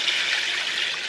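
Water poured into a skillet holding two boxes of dry macaroni and cheese pasta and butter, a steady, close hiss of liquid flowing without pause throughout.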